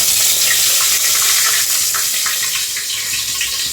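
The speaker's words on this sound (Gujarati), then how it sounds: "એ વઘાર હિંગ નાખી." Spices tempering in hot oil after asafoetida goes in, a loud dense crackling sizzle that holds steady and close throughout.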